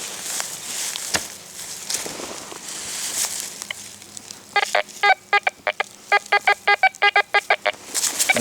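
A metal detector sends out a rapid string of short, regular electronic beeps during an outdoor hunt in Lorraine, close and clear over faint rustling and digging noises, with no speech.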